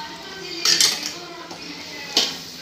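Avial vegetables stirred with a spoon in a metal pot, a couple of sharp clinks and scrapes against the pot sides over a quiet background, close and brief, without speech.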